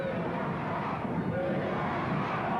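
A sellout crowd of about 2,500 fans roars at an Empire Pro Wrestling show in North Conway, a dense, continuous wall of cheering and shouting that stays loud from start to finish.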